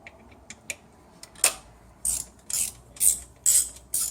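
A T40 Torx screw being loosened on the selector spring of a Ford BTR M74 four-speed automatic transmission, a series of sharp ratchet clicks in short irregular bursts, close and loud with quiet gaps between.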